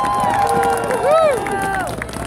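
An outdoor crowd at a street dedication cheers and makes noise, with rising and falling whoops and shouted voices over a general hubbub and scattered clapping.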